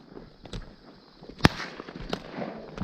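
A single sharp shotgun blast rings out while duck hunting for teal at a pond, standing alone amid quiet outdoor background noise.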